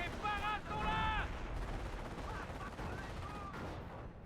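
Machine-gun fire in the WWII strategy game Company of Heroes crackles in rapid, fairly quiet bursts, mixed with tonal effects and voices.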